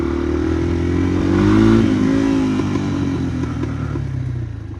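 A 1988 Yamaha Moto 4 ATV engine runs steadily while being ridden, a close, loud, continuous drone that rises briefly in pitch as it revs and then settles again.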